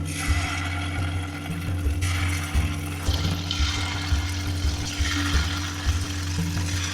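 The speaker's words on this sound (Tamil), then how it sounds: "எண்ணெய் சூடானதும் மாவை எண்ணெயில் கிள்ளி போட்டுக்கலாம்." Steady sizzling and bubbling of rava dough frying in hot oil for crispy snacks, continuous throughout with soft crackles and low popping.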